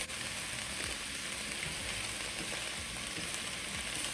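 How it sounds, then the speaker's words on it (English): Onion sautéing in rendered beef and sausage fat for Zuppa Toscana gives off a steady, dense sizzle and frying crackle that stays even and close throughout, with no voices. "we'll just let it saute"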